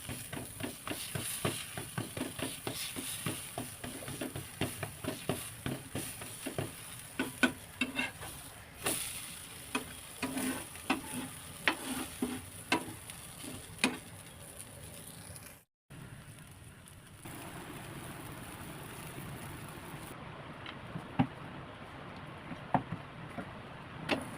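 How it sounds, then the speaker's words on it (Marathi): Paneer paratha roasting on a hot pan, a soft crackling sizzle with frequent quick tapping and pressing sounds from a spatula, fading to a quieter hiss near the end. "असं छानपैकी पटापट पराठे बनवून देते तसं शेकून घ्यायचे"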